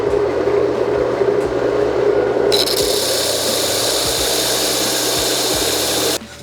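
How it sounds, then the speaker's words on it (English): Power sander working the glued wood rings of a segmented bowl blank: a steady, loud whirring drone that jumps to a brighter, harsher pitch partway through and runs continuously before cutting off near the end. "So real quick, I'm gonna sand all my rings using this"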